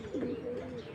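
Pigeons coo nearby, a soft, low, throaty warble rising and fading within a second over quiet background hiss.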